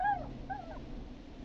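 Short, faint dog whimpers from the video game Killer Frequency, a couple of thin high whines over a low rumbling background, with no talking.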